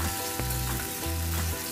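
Onion, ginger, garlic and tomato sizzle steadily as they fry in a pan, a continuous close hiss with a few faint stirring knocks and no talk.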